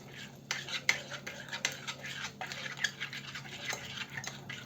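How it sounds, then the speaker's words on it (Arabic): Briouat filling of prawns and cuttlefish being stirred with oil in a bowl: a utensil scrapes and clicks against the bowl in quick, uneven strokes, close but faint, with no talking. "وغادا نخلط"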